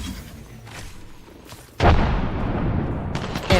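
A frag grenade launched in a video game, followed by a sudden loud explosion partway through and a sustained roar with more crackling shots trailing off after it.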